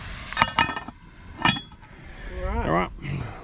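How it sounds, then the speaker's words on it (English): A heavy lid goes onto a cast-iron Dutch oven holding potatoes and peas by a campfire on the Murray River, with a few close metallic clinks while people talk nearby. "let's put the lid on"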